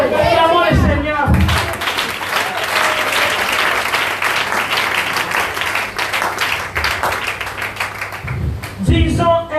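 A church congregation breaks into sustained loud applause, dense clapping filling several seconds, with a voice speaking just before and after.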